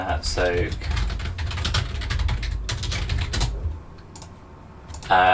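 Rapid clicking of keys on a computer keyboard in bursts, fairly close and steady, with people's voices speaking over and around the typing.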